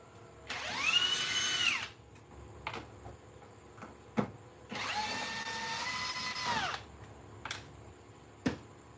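A cordless power tool unscrews a part in two whirring bursts, each revving up and winding down, separated by small clicks and taps of handling nearby, with no voices.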